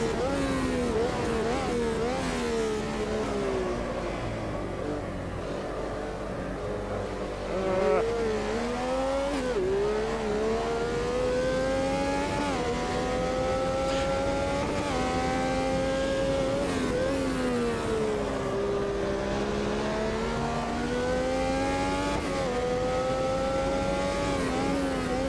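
A Brabham BT46 race car in Automobilista 2 screams at full throttle through its six gears, the engine note rising and dropping with each shift, loud and steady throughout the lap.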